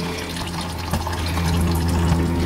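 Engine oil drains from a 2006 Toyota Corolla 1.6 into an oil pan, a close, steady pouring trickle of liquid that grows slightly fuller over the moment.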